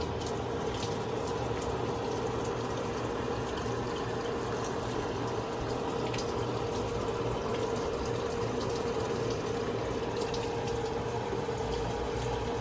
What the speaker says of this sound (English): so I'm just gonna go ahead on with some water